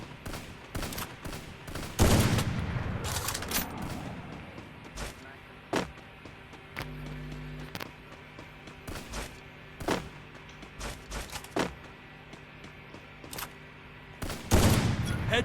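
Gunfire rattles through a first-person shooter game in sharp single shots and short rapid bursts, some loud and close, others lighter, with a faint voice in the background.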